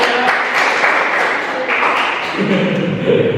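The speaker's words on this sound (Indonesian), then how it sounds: "Boleh tepuk tangan." Brief classroom applause during a microteaching lesson, a short burst of clapping from a small group with voices overlapping and a sung or spoken tone near the end.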